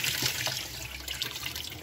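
Kitchen or bathroom faucet opened fully after a clog restricting water pressure was cleared, giving a steady, loud hiss of rushing water close by that runs without a break.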